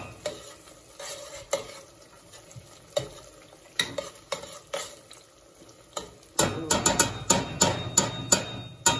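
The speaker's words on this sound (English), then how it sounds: "I'm going to let this simmer down a little bit." Onions cooking down in a pot for jollof rice, a soft simmer broken by occasional utensil knocks, then a denser stretch of clinks and scraping near the end, fairly quiet and close.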